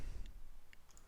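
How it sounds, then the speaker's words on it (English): Two or three soft, isolated computer mouse clicks in quiet, close and faint, while working in After Effects. "So just to right click and rename."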